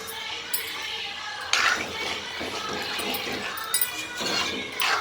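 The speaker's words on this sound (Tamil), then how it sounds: "ஒரு கிளாஸ் தண்ணி ஊற்றணும்." Water is poured into simmering potato gravy in a home kitchen as a steady splashing stream, with a few light clinks of utensils and pans.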